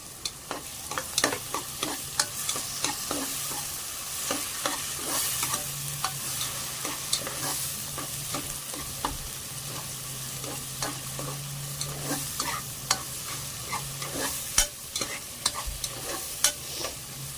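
Chopped onion and tomatoes sizzle in a hot pan while a spoon or spatula stirs and scrapes them in frequent irregular knocks, a steady close frying hiss under the clatter, with no talk.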